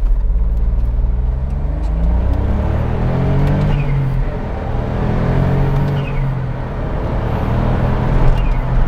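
A Smart Roadster's small engine pulls hard on boost as the driver floors it, a loud, steady rumble with rising and falling harmonic sweeps through gear changes, continuous close-up cabin drone with no talking.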